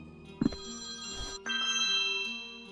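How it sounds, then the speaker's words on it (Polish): Phone ringing in the video game Priest Simulator, an electronic ringtone with a brief knock near the start, then a sustained tonal ring that rises and holds steadily, clear and fairly close with no talking. "Ktoś dzwoni. Chyba do nas."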